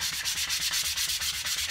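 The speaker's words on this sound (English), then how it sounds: "this is a 220 grit sandpaper" Fine 220 grit sandpaper rubs back and forth over a carved and filed wooden cigar box guitar neck, a steady rhythmic scratchy rasp in quick even strokes, close and alone.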